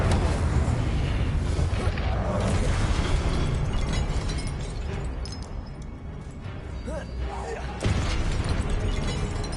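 Incendio fire spell blasting in a Harry Potter video game, a loud, dense roar of explosive bursts and crackling that runs continuously with a fresh surge near the end, with a voice talking over it.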